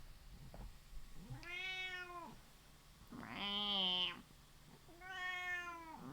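A cat meows three times, each a clear drawn-out harmonic call with short pauses between, the middle one loudest, close to the listener over a faint background hum.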